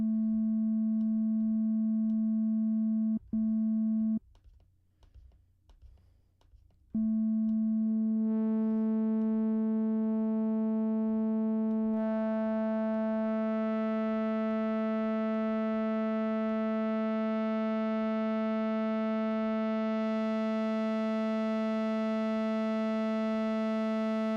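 A steady electronic tone from the Bitwig FM-4 synthesizer that briefly cuts out, then returns and grows brighter and richer as frequency modulation layers in extra harmonics over a long sustain.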